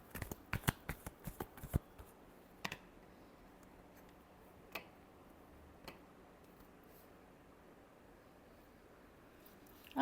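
Tarot cards being shuffled for a final time during a reading, a quick flurry of soft riffling taps in the first two seconds, then a few isolated faint clicks over a very quiet background.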